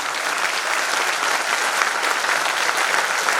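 Teaching staff applaud loudly for themselves, producing a steady burst of dense, continuous clapping from a large group at an even level throughout.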